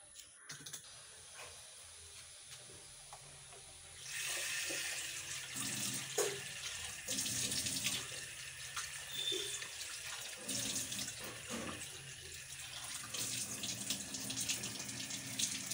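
Tap water runs steadily into a sink while vannamei shrimp are washed. A quieter trickle swells into a louder, fuller gush partway through, with faint handling clatter and no talking.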